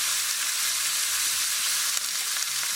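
A lobster tail sizzles in a hot pan, giving a steady, dense frying hiss close by with faint low scraping beneath and no one speaking.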